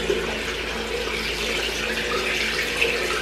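Tap water runs steadily from a bathroom faucet into a sink while someone washes their face, a continuous close splashing stream with no talk.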